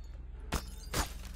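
Glass shatters twice in Hello Neighbor 2, two sharp, loud crashing bursts about half a second apart over a quiet hum.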